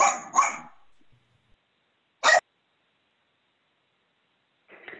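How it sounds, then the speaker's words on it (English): A dog gives one short, sharp bark in the background of a city commission meeting held remotely, between brief stretches of people talking. "but that was not my dog"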